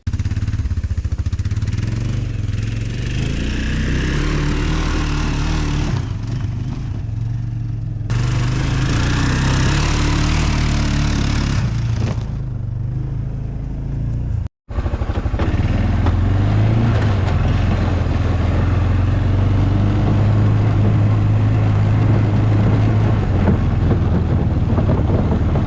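Arctic Cat Bearcat 454 ATV with new tires climbing hills in a sand pit: a steady, droning engine under heavy wind buffeting, with one brief dropout midway.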